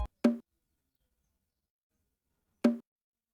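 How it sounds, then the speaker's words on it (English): Two separate bongo drum hits from an FL Studio sample, each a short dry tap spaced about two seconds apart, with a faint click at the very start and silence in between. "It's another bongo."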